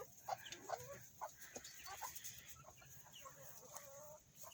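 Several chickens cluck in short, irregular bursts, some close and some farther off, over a faint steady background hiss.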